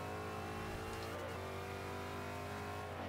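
Saleen S7 engine in the Forza 5 racing game revving and accelerating hard, a steady loud mechanical drone with harmonic whine that rises in pitch and keeps pulling for about three seconds.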